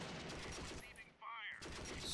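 Soldiers' gunfire crackles in Close Combat: The Longest Day, a dense burst of rapid shots that briefly breaks off and then resumes, with a faint whistling sound in the gap.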